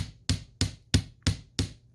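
Metal is hammered to add texture while crafting golden roses: six sharp, evenly spaced strikes about a third of a second apart, close and loud, with no talk.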